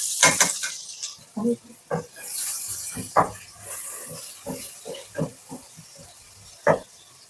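Sliced onions sizzle in a pan, a steady frying hiss broken by repeated clinks and scrapes of a stirring spoon, close and fairly loud.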